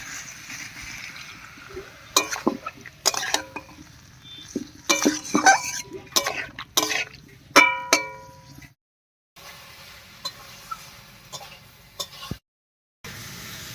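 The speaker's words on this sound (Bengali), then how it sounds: "এবার সামান্য একটু মশলা বাটা জল দিয়ে কষিয়ে নেব।" Spice paste and water being stirred and fried in a pan for a Bengali fish curry with potatoes and drumstick stalks: repeated clanks and scrapes of a metal spoon against the pan in irregular bursts, close and fairly loud, with a brief silent gap.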